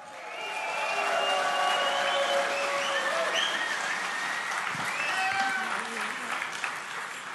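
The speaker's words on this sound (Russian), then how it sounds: "Я еще даже не перечислил, а толпа уже аплодирует" Sustained audience applause fills a crowd at a pro-Bitcoin event, loud and steady from start to finish, with a few voices faintly mixed in.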